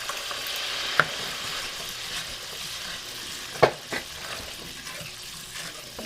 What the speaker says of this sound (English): I'm going to add a liter of beef stock to this one